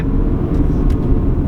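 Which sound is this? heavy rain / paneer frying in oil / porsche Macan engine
porsche Macan engine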